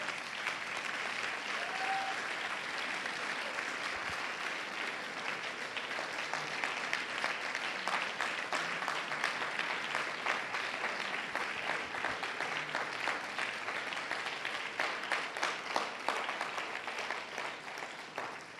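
A church congregation applauding the Lord, sustained clapping from many hands that stays dense and steady for nearly twenty seconds, with rhythmic claps growing toward the end and no voices on top.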